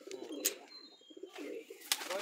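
Pigeons brought from Madras coo in low bursts, two main phrases separated by a pause, with sharp clicks and a faint whistle mixed in at fairly close range.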